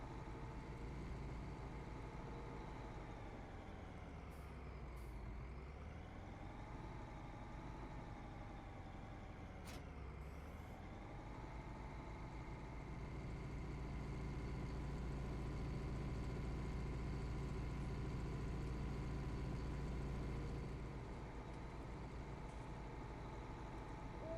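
A truck in Farming Simulator 19 rumbles steadily at idle, a low continuous engine drone with two short pitch dips as it revs and settles, with no voices.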